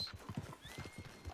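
Horse in the video game Red Dead Online, a quick run of close hoof clops with a short whinny over them, faint and brief.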